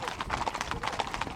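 Horses on a horse drive through the small town of Maybell, Colorado, clip-clop in a steady, busy patter of many hooves. The sound is fairly close and continuous, mixed with faint crowd noise.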